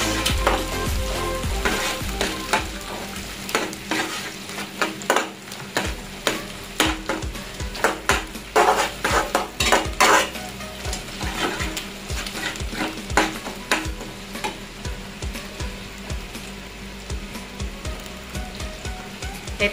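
Chili, garlic and onion stir-frying for Indonesian nasi goreng, with a steady close-up sizzle of hot oil and repeated scraping, clattering strokes of a spatula against the pan, irregular but continuous throughout, no voices.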